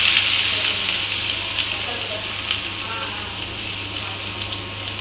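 Mustard seeds and chopped onions frying in hot oil in a pan for a okra stir-fry, a loud steady sizzle close up that eases slightly after the first second.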